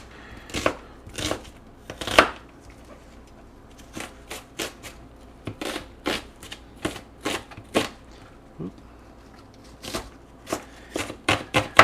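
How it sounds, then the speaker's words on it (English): A knife chops onions on a board in a home kitchen while fish curry with spinach is prepared, sharp rhythmic close thuds in quick irregular bursts, no voices. "throw a few onions in there, and you don't have to cut them up super small"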